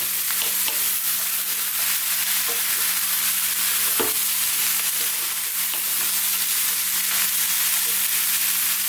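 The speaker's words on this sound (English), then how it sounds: "fry this in the pan just for about another 3 to 4 minutes. Keep stirring it now" Vegetables with garlic and chilli frying in a pan, a constant close sizzle broken by soft scrapes and knocks of stirring, with no voices.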